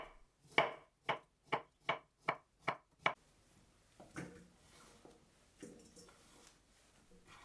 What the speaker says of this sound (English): Peel the stem. And cut it into chunks.